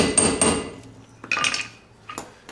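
A hammer taps a bolt on a rear disc brake caliper: a few close metallic knocks, a sharp pair at the start, another cluster a second later and a lighter tap near the end, with no talk.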